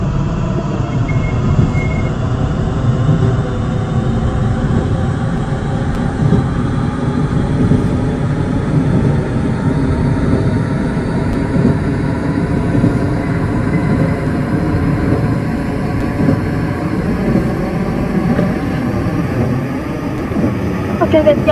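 Continuous rumbling of an electric KRL commuter train in Roblox running along the tracks, a steady hum and drone that holds at an even, fairly loud level.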